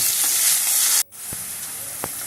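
Chopped onion hits hot oil with ginger and asafoetida, giving a loud, bright, close hiss that briefly cuts out, then resumes as a steady sizzle with a couple of soft knocks.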